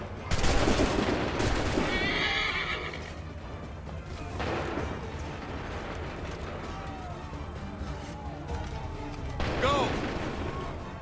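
Musket volley gunfire in Assassin's Creed 3, a loud burst of many overlapping shots followed by scattered reports, with horses whinnying and voices shouting among the battle noise.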